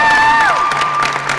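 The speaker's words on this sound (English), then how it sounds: "Let's give Tracy a round of applause" An audience at an elevator pitch competition final claps and cheers briefly after a contestant's pitch, a dense burst of applause with whoops under a fading tonal sound.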